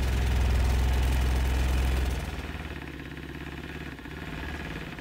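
A Vortex paint mixer shakes a large jar of Gaia EX-line paint, giving a loud, steady mechanical rattle and hum that drops to a lower, rougher vibrating drone partway through, with no talking.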